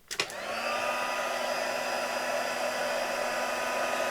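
A handheld dryer blowing on antique linen ink over cream card: a couple of clicks as it switches on, then a steady, close whirring hum that continues alone.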